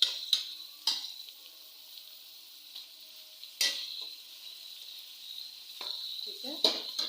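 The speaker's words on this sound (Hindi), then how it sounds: "हम प्याज जो है उसको डालकर फ्राई कर लेते हैं" Sliced onions frying in oil in a pan for stuffed tinda, a soft continuous sizzle broken by several sharp scraping stirs of a spoon against the pan.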